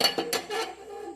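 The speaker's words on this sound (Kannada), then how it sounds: "ಈ ಸ್ಟೀಲ್ ಕುಕ್ಕರ್ ಇಟ್ಟಿದ್ದೀನಿ." A couple of quick metallic clanks, a steel pressure cooker knocking as it is set down on a kitchen stove, fairly close and brief.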